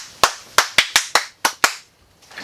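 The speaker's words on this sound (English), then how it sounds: "Clap it up. Clap it up." Hands clapping in a small group, seven sharp, close, fairly loud claps in a slightly uneven rhythm over about a second and a half, followed by quiet.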